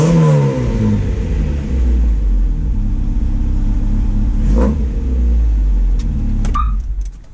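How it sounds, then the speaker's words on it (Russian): A Ford Escort XR3i convertible engine, started after sitting unused for two months, runs with a steady loud rumble and brief revs throughout, and the idle shifts near the end. "машина два месяца простояла, не запускалась, то в принципе нормально, я считаю, заводится."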